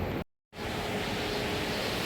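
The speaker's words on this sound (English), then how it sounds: "We've got a waterfall with palm trees." An indoor waterfall in a large shopping mall in Amman gives off a steady, dense rush of falling water. The roar cuts out briefly near the start, then returns loud and unbroken.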